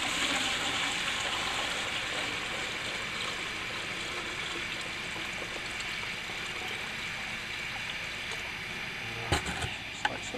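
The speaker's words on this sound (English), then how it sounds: "you want to fill it up from the 5-gallon bucket" Water pours from a 5-gallon bucket into a watering can, a steady trickling wash that continues throughout the clip and stays moderately quiet, with a couple of brief knocks near the end.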